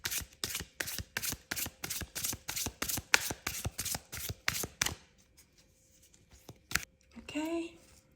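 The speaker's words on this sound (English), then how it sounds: "I'm going to shuffle." Oracle cards being shuffled by hand, a fast run of about fifteen crisp riffling bursts in steady rhythm, close and clear, then a pause with a soft tap and a brief voice.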